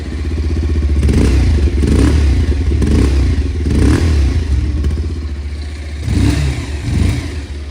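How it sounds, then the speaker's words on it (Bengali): A Bajaj Pulsar 180 motorcycle runs close by, its exhaust note steady and loud, with a few revs swelling and easing under a rough mechanical clatter. "এটা হলো 180 এর সাউন্ড"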